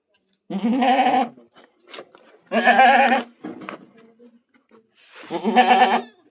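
A goat with mastitis bleats three times, close and loud, with wavering, quavering cries separated by short pauses and a few faint noises in between.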